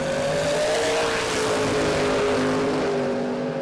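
A drag racing car held on the trans brake at Willowbank Raceway in Australia, its engine a loud, unbroken droning roar that holds nearly level for the whole stretch with no voices.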